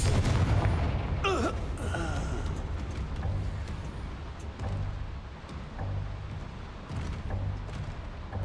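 A Confringo blasting spell goes off in Hogwarts Legacy, a loud booming burst near the start followed by a crackling rush and rumbling game noise, with a few softer thuds after.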